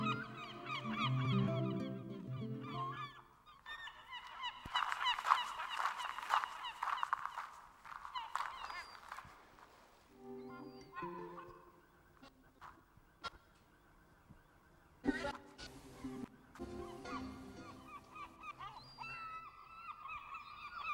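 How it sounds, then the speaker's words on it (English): Seagull calls used as a sound effect that follows a listener around an interactive spatial audio setup come in scattered honking squawk bursts, fairly quiet and spread over the stretch, with pauses between clusters. "I can bug him with these seagulls, let them follow him just manually at this point."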